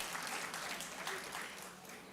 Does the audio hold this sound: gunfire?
no